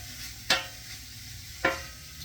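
Bacon fries on its own at the bottom of a stew pot. Two short, bright bursts of sizzle and stirring rise over a steady low hiss.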